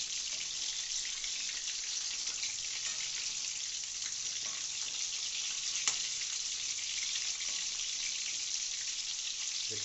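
A constant, soft sizzling hiss of food frying in a pan, fairly quiet and even, with one faint click partway through.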